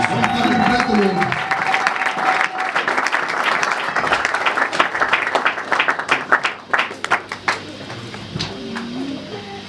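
Church congregation applauding and cheering during a French-English bilingual service, steady dense clapping with crowd noise that thins into scattered claps toward the end, with voices mixed in.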